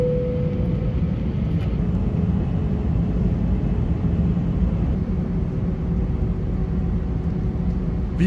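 An Air Seoul airliner taxiing before takeoff, heard from inside the cabin as a steady low engine rumble and hum with a faint tone, constant and even throughout.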